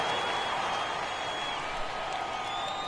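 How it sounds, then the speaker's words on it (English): Steady broad wash of an arena crowd applauding the Chicago Bulls during an NBA game against the Hornets, a dense continuous roar of clapping with faint cheers mixed in, fairly distant and even throughout. "a big round of applause for your Chicago Bulls"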